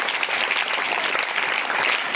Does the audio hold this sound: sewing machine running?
no